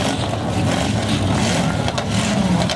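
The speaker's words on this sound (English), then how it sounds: "Start your engines, gentlemen." Full-size trucks at a demolition derby in Lloydminster roar together in a dense, loud wash of engine noise with a constant low growl and no clear breaks.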